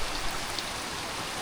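Heavy rain pours steadily during a flood, where water has risen through a house and streets, making a dense, even hiss of downpour with no breaks and no voices.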